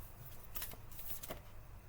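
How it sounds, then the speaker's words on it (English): A deck of cards being shuffled by hand, with two quick riffle bursts of crisp fluttering clicks separated by a short pause, close and fairly quiet against a low background hum. "Alright, we'll shuffle, and then we'll break it into 2 piles."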